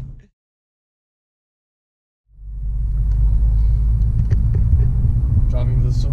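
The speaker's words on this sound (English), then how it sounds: "Driving the Scirocco back" A VW Scirocco drives on a road trip, a loud, steady low cabin rumble of engine and road noise that starts after a silent gap and continues to the end.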